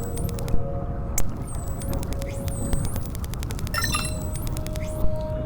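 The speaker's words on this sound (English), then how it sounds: "Another sensor alarm." A repeating electronic sensor alarm from the underwater video game Beyond Blue chirps in short rising tones several times over a low ocean hum, with bright clinking pings layered in the background.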